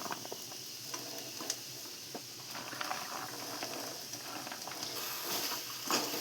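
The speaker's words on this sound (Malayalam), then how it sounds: "നല്ലോണം ഇളക്കുക." Okra thoran cooks in a pan, with quiet, close sizzling and frying broken by repeated soft scraping stir strokes.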